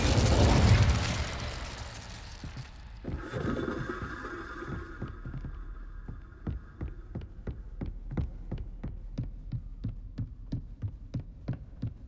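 Incendio fire spell cast in the video game Hogwarts Legacy: a loud whooshing burst of flame opens, then a sustained fiery rush, followed by a long series of regular, sharp, fading ticks or pulses.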